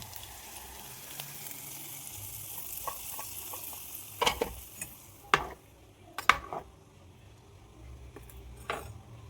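Mustard seed tempering poured into a ripe mango pulissery curry gives a quiet, low sizzle, broken by several sharp crackles and clinks scattered through the middle. No voices.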